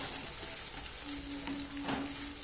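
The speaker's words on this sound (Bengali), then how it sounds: "ডিমটা আমি এইভাবে ভেজে নিচ্ছি ডিমটা একদম পুরো ঝুড়ি ঝুড়ি করে ভেজে দেবো" An egg fries and is broken up in a pan of oil, a soft, steady sizzle with light scraping and stirring taps and a faint tonal hum in the background, with no talking.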